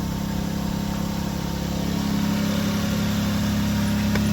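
A 2001 Toyota Solara engine idles with an exhaust leak, giving a steady, close, low rumble with an even pulsing hum that holds constant throughout, with no voices.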